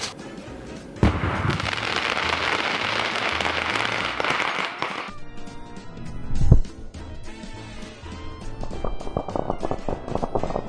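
Fireworks burst inside a carved Halloween pumpkin: a sharp bang, then several seconds of dense crackling and fizzing, a second loud pop, and scattered crackles fading out, close by.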